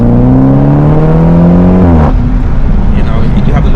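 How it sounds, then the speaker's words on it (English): A BMW 430i Gran Coupe with a B48 engine drones loudly from inside the cabin, its pitch easing down before a brief pop and crackle as the revs fall away. "you have the little fart noises"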